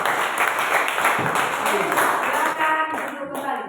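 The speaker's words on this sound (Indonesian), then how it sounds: "kita kasih apresiasi aplaus" Applause from a classroom audience after a student group's presentation, a dense burst of clapping lasting a few seconds before fading, with voices mixed in.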